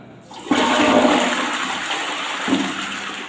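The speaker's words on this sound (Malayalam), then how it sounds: "ഒന്ന് ഫ്ലഷ് ചെയ്ത് കഴിഞ്ഞാൽ" A toilet in a home bathroom is flushed, with a sudden loud rush of water that stays close and steady for about three seconds, then swells briefly once more. No voices are heard.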